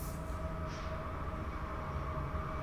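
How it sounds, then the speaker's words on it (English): A train passes in a steady rumble with a sustained tonal hum and faint high squeals, heard alone with no talk. "Y'all excuse the train"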